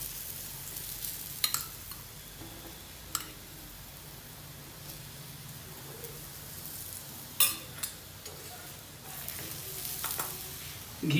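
A moringa leaf paratha fries in ghee on a hot griddle, giving a steady, soft sizzle with faint crackles and a few small pops and scrapes throughout.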